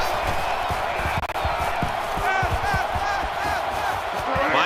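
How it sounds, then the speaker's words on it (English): A roaring stadium crowd in a college football video game, a steady dense wall of cheering with scattered claps and thumps, heard at a distance with no talk over it. "And this crowd is going absolutely crazy."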